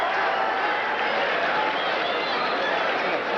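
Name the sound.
boxing crowd applauding in Las Vegas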